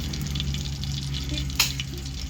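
Vadagam seasoning frying in hot oil in a kadai, a steady close sizzle with a brief clink of a stirring spoon partway through, no voices.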